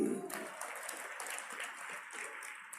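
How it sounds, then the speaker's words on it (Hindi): Audience applause at a Kumar Vishwas poetry recital, a thin, scattered round of clapping that carries on at modest loudness after a brief voice at the start. "तो कुछ लोगों ने कम तालियां बजाई"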